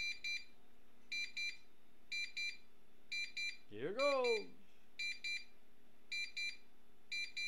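A GE Concord 4 security panel with a hardwired interior motion detector on entry delay and no siren attached gives off evenly spaced pairs of sharp electronic beeps, loud and steady, while someone speaks briefly partway through.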